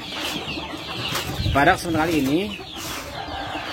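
Ayam kampung Sentul chickens from Ciamis cluck and call on a farm at afternoon feeding time, a few close clucks and a warbling call rising midway while someone speaks over them.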